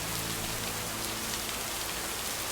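Steady rain falls in the video game Lake, a constant dense patter on surfaces with no breaks, soft and even throughout, with no talking.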